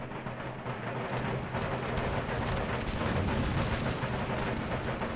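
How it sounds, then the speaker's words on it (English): Musket volley fire from line infantry in the Empire: Total War video game, a dense, continuous crackle of massed gunshots and booms at moderate level with no voice over it. "Okay, now you can open fire."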